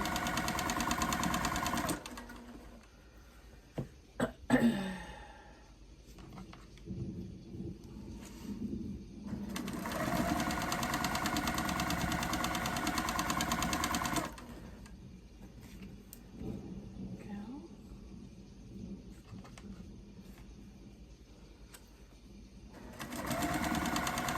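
Sewing machine stitching fabric pieces for a scrappy Americana flag quilt, running in long steady bursts with short pauses between seams, a near and moderately loud mechanical whir.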